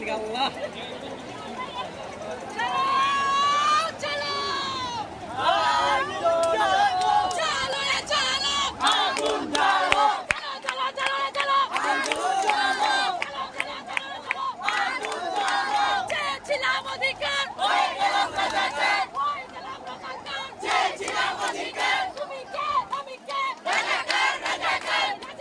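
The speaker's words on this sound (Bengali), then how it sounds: "নারায়ণগঞ্জ শহর প্রাণকেন্দ্র চাষাঢ়া সড়ক অবরোধ করে বিক্ষোভ করছেন শিক্ষার্থীরা" Students block the main road at Chashara in Narayanganj city, a large crowd shouting and chanting together in loud, rhythmic bursts that carry on steadily with overlapping voices and babble.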